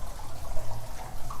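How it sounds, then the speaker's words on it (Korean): Water splashes and runs steadily from a lit fountain in a city square at night, a continuous close wash of falling water with no talking. "여기서 나는 물소리였네"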